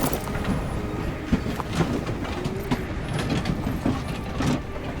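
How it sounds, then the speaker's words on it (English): A train rolling on a magic track through a void in the Voidtrain game, a steady mechanical rumble with rattling clanks and faint metallic ticks, continuous and fairly even. "I'm flying through a void attached to a train on a magic train track"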